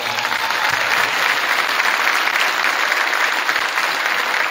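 Sustained applause from a school gym crowd honoring the junior football players, steady broadband clapping from many hands throughout with no speech over it.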